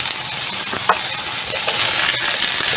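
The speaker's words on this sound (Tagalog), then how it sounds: "So, ipa-fry lang natin siya saglit." Potatoes fry in oil in a cooking pot over low heat, giving a steady, close, loud sizzle with occasional stirring clatter throughout.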